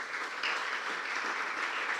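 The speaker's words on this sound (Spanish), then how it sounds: "Un fuerte aplauso a los amigos y hermanos." A church congregation claps in a dense, steady burst of applause, moderately distant and quiet, with no voices over it.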